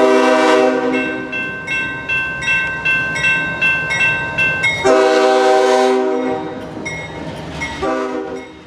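CSX Tropicana Juice Train switcher, train 0823, in foggy Tampa, Florida, sounds its horn in long loud blasts with a shorter repeated pulsing series between them, up close and with no talk.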